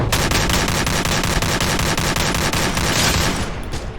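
Rapid automatic gunfire from the mobile battle royale game Free Fire MAX, a dense unbroken burst of shots that stays loud and close for several seconds before easing slightly.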